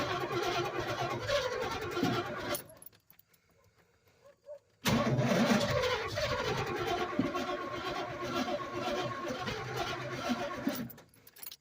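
An engine's starter cranking as the engine struggles to start after stalling, with a weak battery, a loud close grinding whir that stops for a couple of seconds and then resumes for a long stretch.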